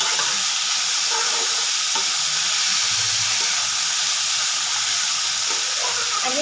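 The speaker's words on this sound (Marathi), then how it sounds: "आपल्याला हे परतून घ्यायचं." Moth beans with coriander and cumin being sautéed in a pan, a dense, loud, unbroken hiss of frying with faint stirring scrapes underneath.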